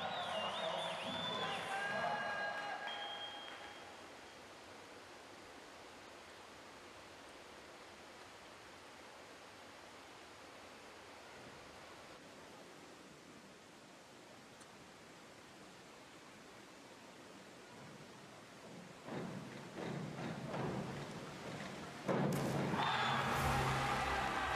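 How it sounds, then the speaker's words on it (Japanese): A large crowd roars at a women's diving competition, a steady broad wash of cheering that dips, holds, then swells again with louder bursts toward the end. "大きな歓声が上がりました。"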